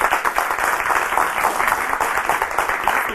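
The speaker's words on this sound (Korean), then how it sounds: "큰 박수로 맞아주시기 바랍니다." Studio audience of graduate students applauding to welcome a professor onto a televised lecture set, a dense, even burst of clapping that holds steady and fairly loud for the whole stretch.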